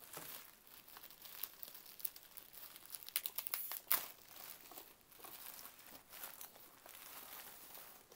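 Wrapping paper and bubble wrap crinkle and rustle as a Super7 Holiday He-Man toy is pulled from its packaging, a steady close-up scrunching with sharper crackles and pops scattered throughout, no voices.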